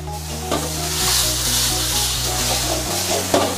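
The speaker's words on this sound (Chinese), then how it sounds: "快速翻炒" Pork tripe is stir-fried fast in a hot wok with rice wine, green peppers and a starch sauce, producing a constant bright sizzle with occasional tossing clanks over steady background music.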